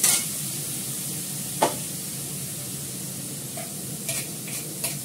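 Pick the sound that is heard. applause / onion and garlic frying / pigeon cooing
onion and garlic frying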